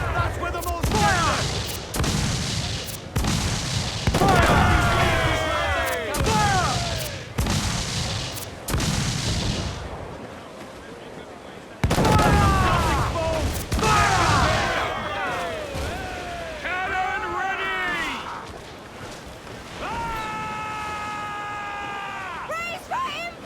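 Naval cannon broadsides in Assassin's Creed 4 Black Flag, a series of heavy booming volleys in rapid succession, loud and close, with crew voices shouting between the blasts.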